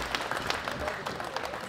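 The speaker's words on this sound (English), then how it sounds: "Big round of applause for our winners." Brief applause from the audience at the 2018 World Classic Powerlifting Championships honouring the winners, a short, muffled patter of clapping lasting under two seconds.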